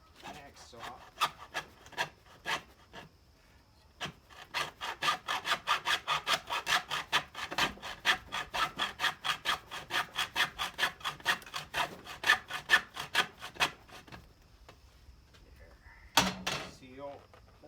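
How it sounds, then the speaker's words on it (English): A hacksaw cuts a part during repair work on a Toro 522xi snowblower, giving quick, even back-and-forth strokes that speed into a dense run of about forty rasping passes, pause, then end with a few last strokes, close and alone. "Just used hacksaw."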